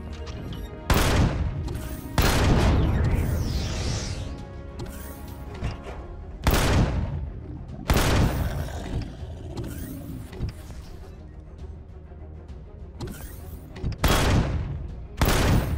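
Shotgun blasts ring out in Empyrion Galactic Survival, around eight sharp, loud reports spaced irregularly a second or more apart, each with a ringing decay against a quieter game backdrop.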